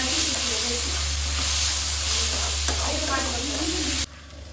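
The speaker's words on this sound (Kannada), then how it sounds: "ಟೊಮೆಟೊ ಹಾಕಿ ಚೆನ್ನಾಗಿ ರೋಸ್ಟ್ ಮಾಡಬೇಕು." Tomatoes roasting in a pan for chicken biryani, a loud, steady close sizzle with stirring scrapes and voices talking over it, cutting off abruptly near the end.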